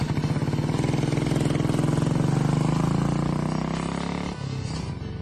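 A Royal Enfield Bullet single-cylinder motorcycle, a 50-year-old design, thumps steadily while riding, its engine note rising gradually then dipping briefly near the end, loud and close with no talk.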